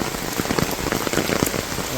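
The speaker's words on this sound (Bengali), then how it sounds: "এখানে বৃষ্টি কম, কমে গেছে বৃষ্টি।" Steady light rain over a village, close patter of drops hitting surfaces with small irregular splashes throughout, no one speaking.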